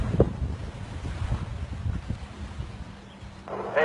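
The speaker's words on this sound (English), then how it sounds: "It's been cool with the solid headwind all day." A solid headwind blowing across a water ski jump site, buffeting the microphone with a steady low rush and occasional gusts, over open water.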